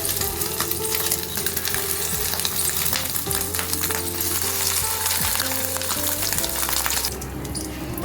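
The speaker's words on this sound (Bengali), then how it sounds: "কড়াইতে তেলটা গরম হয়ে গেছে, এখন এই ডিমের কোপ্তাটা আমি একটা একটা করে দিয়ে দেব।" Fish roe koftas frying one by one in hot oil in a wok, with a steady, close, loud sizzle and crackle throughout and occasional stirring clinks, no voices.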